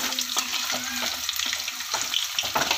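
Chicken 65 sizzles and crackles in hot oil after being flipped, a dense steady frying hiss with occasional pops and light clinks of a utensil, close and continuous.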